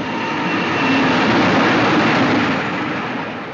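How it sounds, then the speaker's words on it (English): An express train from the 1945 film Brief Encounter roars past in a loud, broad rushing rumble that swells and then slowly tapers off, with no voices over it. "The express train goes by."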